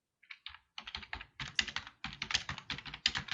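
Fast, uneven typing on a computer keyboard comes through an open microphone during an online conference, with bursts of clacking keystrokes separated by short pauses, fairly close and alone.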